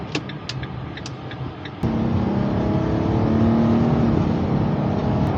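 An RV drives down the highway at speed, a steady loud road and engine rumble with wind noise inside the cabin, after a brief quieter stretch with light clicks.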